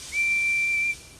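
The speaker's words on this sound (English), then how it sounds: "He whistled hello to Harry and Bert." A steam locomotive's whistle in a Thomas and Friends episode gives one steady, shrill blast lasting under a second, loud and close, then cuts off into quiet background.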